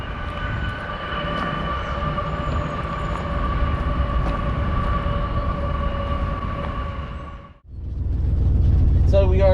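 A train running on an active railroad near a railway museum in Chehalis-Centralia, giving a steady, loud, droning rumble with sustained tonal hums that cuts off abruptly and then returns as heavy low rumbling.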